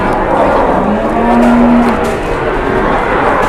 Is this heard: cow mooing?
yes